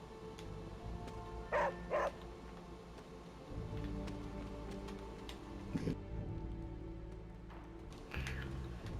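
A dog barks in the video game Marvel's Midnight Suns, a few short barks in quick pairs over a steady bed of game ambience and music, fairly near and clear with no talk.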